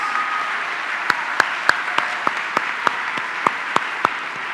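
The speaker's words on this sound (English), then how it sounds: "Can we give all these graduates another round of applause" Applause from a nursing pinning ceremony audience, a steady wash of clapping with distinct sharper claps standing out at irregular intervals, moderately distant in a large hall.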